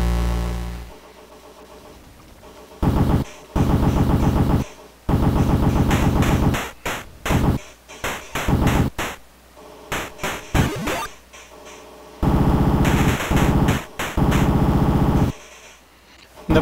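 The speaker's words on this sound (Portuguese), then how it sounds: "Dá pra ver que os tiros ficam um pouco mais rápido conforme você vai passando de fase." Gunfire in The Punisher NES video game comes as rapid electronic bursts, some lasting a second or more, mixed with shorter stuttering blasts and quieter gaps in between.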